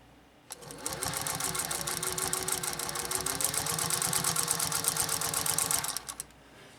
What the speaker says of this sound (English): This leather eater just sews with so much ease